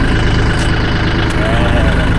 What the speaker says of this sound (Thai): ประสบการณ์ขับรถไถครั้งแรก